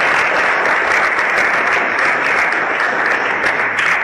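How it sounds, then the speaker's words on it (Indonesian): Sustained dense applause from an audience at an informal home-sharing business class, steady and loud throughout with no talking over it. "Kita beri tepuk tangan sekali lagi untuk Pak Agus Anwar."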